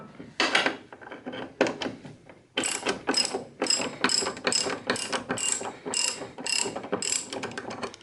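A hand ratchet loosens the front strut bolts on a 2007 Mini Cooper S, with rapid clicking bursts near and loud. The bursts repeat in short strokes with brief pauses between them.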